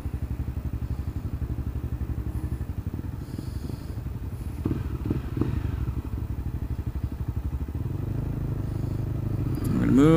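A motorcycle crawls through stop-and-go traffic in first gear, its engine a steady, close, low pulsing rumble that swells slightly mid-ride, with a few knocks and clatters.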